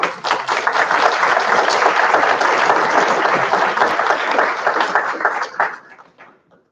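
A lecture audience applauds to welcome Dr. Nathan Tye to a Brown Bag Series talk: dense, steady clapping from many hands that holds strong for several seconds, then thins out and fades to a few last claps.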